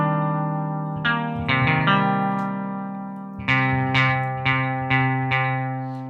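A synth instrument plugin, Output Horizon, played on a keyboard: sustained tonal notes with distortion and chorus-like effects, a few held chords followed by a series of struck notes with clear attacks decaying into reverb, no voices.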